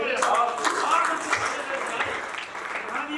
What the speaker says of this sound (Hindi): एक बार तालियां बजाओ।